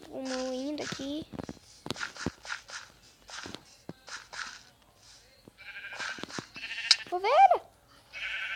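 Sheep bleat in a video game, a few wavering, nasal cries, one early and a louder one near the end, mixed in with a child chattering throughout.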